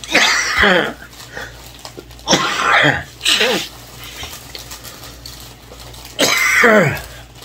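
Repeated harsh coughing fits, three loud bursts separated by quieter gaps, close up during a fried chicken dinner, with low background noise between.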